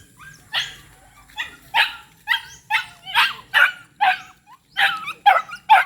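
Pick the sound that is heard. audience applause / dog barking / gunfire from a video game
dog barking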